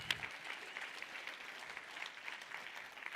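Audience at an annual business meeting applauds its donors, a steady wash of clapping that holds evenly from start to finish at moderate distance, with no voices over it.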